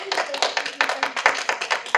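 A classroom of students gives a round of applause for a student speaker after a presentation, dense overlapping hand claps filling the full two seconds at a steady, lively level.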